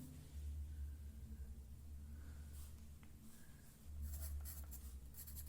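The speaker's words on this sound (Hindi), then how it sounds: "तो देखिए पहली लाइन लिखते हैं" Faint scratchy pen writing in a workbook, soft and close over a steady low rumble, with a few brighter strokes toward the end.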